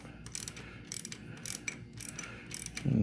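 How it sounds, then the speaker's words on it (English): A quarter-inch drive ratchet turning an Allen head plug on a 2018 Harley-Davidson Fat Bob transmission, quick clustered clicking bursts repeating in a rough rhythm, close and fairly loud, ending in a duller knock. "that's what I'm using with the quarter drive ratchet"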